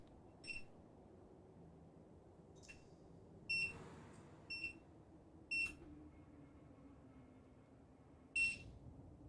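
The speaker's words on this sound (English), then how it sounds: "Here's the beeps." Loud electronic beeps ring out alone over a quiet hum, six short separate bursts spaced unevenly, each a bright high tone.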